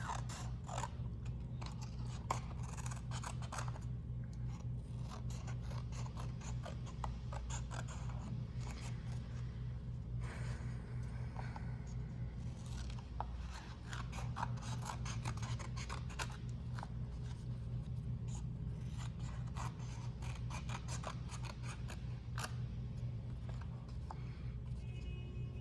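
Scissors trimming Polaroid watercolor prints, a run of quick close snips and crisp cuts over a low steady background hum.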